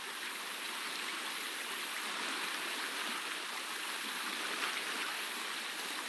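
A river rushing through a rocky canyon in a video game, a steady, even wash of flowing water with no voices.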